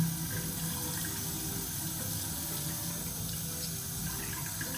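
Steady running water from a tap as cleansing oil is rinsed off a face, a continuous close hiss and splash with no talking throughout.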